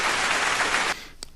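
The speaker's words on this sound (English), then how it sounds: "Hand clap for that." Audience hand clapping, a dense burst of applause lasting under a second that stops abruptly, followed by quiet and a single faint tap.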